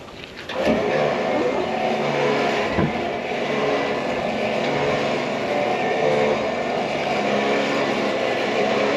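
A Holden ute's engine runs steadily and loud throughout, a continuous broadband drone with a brief low thump near the start, close by and with no talk over it.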